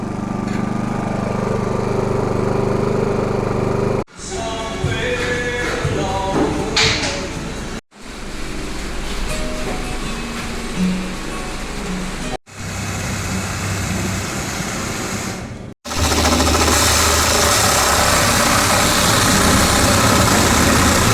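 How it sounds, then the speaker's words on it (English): A small portable generator running steadily to power a fan, giving a loud, constant engine drone heard up close, broken by a few abrupt cuts in the sound. "So we got our small kind of generator. Power the fan."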